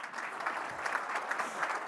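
An audience at a Canadian Club Toronto luncheon claps, a short burst of dense, even applause from a sizable crowd, heard close and steady for a couple of seconds.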